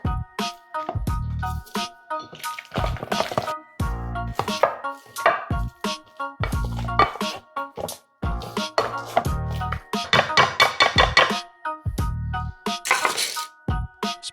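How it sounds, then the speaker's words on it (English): A masher working through potato filling with butter, sour cream, milk and mozzarella in a bowl, giving rapid, rhythmic clinks and knocks against the dish, close and crisp, with brief pauses between runs. "Mash until creamy and smooth."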